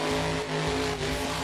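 Monster truck engine in BeamNG.drive at a simulated Monster Jam freestyle in Indianapolis, roaring steadily and loudly for the whole moment with a brief dip, and a hint of tyre squeal.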